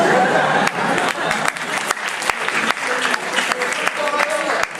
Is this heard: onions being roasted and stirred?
no